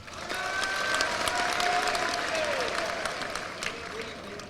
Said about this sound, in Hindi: वैसे आपने ताली इतनी बजा दी थी, अगली बार के लिए भी रखना पड़ेगा।